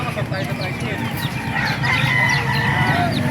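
Chickens cluck and squawk steadily nearby at a market in Baliuag, with crowing roosters mixed into a busy, continuous barnyard chorus.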